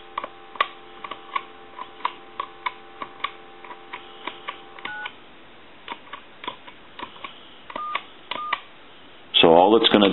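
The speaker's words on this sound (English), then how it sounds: "Now what we're going to do is try to dial some of the other numbers." An AT&T Trimline 210 touch-tone telephone under repair dials a series of short, crisp keypad tones, each with a click, evenly spaced and close. A louder warbling electronic tone follows at the end.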